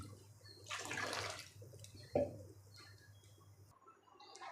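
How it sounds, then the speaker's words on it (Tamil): Water pours briefly into a pot of rice for mushroom biryani with a splashing rush, followed by a short sharp splash and quieter trickling. "அதுக்கான டபுள் மடங்கு தண்ணியை நம்ம இப்போ இதில் ஊற்றணும்"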